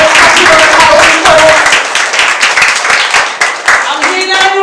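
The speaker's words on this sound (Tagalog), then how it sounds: "palakpakan natin ang Panginoon" A church congregation clapping at an online gospel service, giving a scattered, fairly loud patter of many hands that lasts several seconds, with voices and a few sustained musical tones mixed in.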